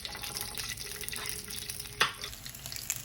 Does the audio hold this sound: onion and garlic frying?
yes